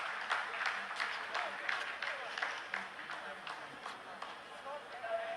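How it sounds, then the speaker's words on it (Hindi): Scientists in a mission control room applauding after a phase of the Chandrayaan-3 lunar landing, a steady patter of clapping heard faintly beneath continuous commentary. "आप इस तालियों के गड़गड़ाहट को सुन सकते हैं"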